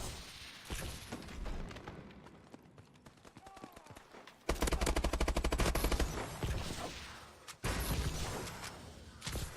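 Shotgun blasts and bursts of gunfire from Call of Duty: Advanced Warfare multiplayer on PS3, loud repeated shots with sustained rapid firing near the middle and end, over game ambience.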